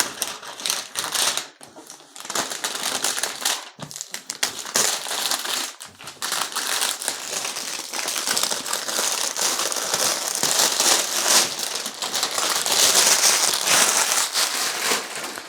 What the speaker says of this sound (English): So that's the cellophane.